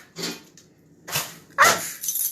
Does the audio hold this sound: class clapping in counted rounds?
no